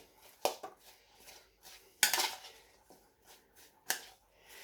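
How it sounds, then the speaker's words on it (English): A spoon stirs cut fruit and mint in a bowl, giving a few sharp clinks and scrapes at irregular intervals, close and fairly quiet, with soft rustling between the louder taps. "Let's give it a nice mix with a spoon."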